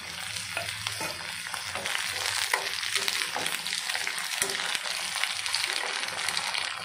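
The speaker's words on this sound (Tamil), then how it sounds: "ஆயில் சூடானதும் வெங்காயத்தை சேர்த்திடலாம். கட் பண்ணி வச்சிருக்கிற தக்காளியும் சேர்த்திடலாம்." Chopped onion and tomato frying in hot oil for a Tamil-style tomato chutney, a steady broadband sizzle with stirring scrapes, close and fairly loud, with no one speaking.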